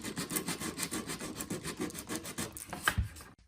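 Wood is hand-sanded with 80 grit sandpaper in quick back-and-forth rasping strokes, close and fairly quiet, stopping abruptly at the end.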